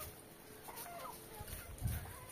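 Clucking from a young Pachakaki-breed chicken, soft and fairly faint against low background noise, with a slightly louder burst near the end.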